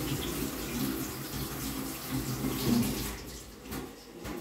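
Cucumbers rinsed under a steadily running kitchen tap, with water splashing continuously and fairly close throughout before easing slightly toward the end; no talking.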